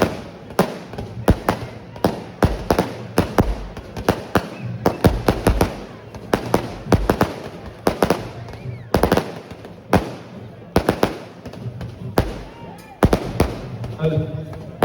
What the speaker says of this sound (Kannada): ಸ್ವಲ್ಪ ದೂರ ಇಡಿ ಪಟಾಕಿ ದಯವಿಟ್ಟು